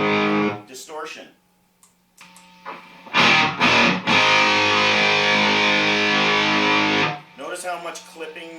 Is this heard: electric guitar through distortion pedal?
yes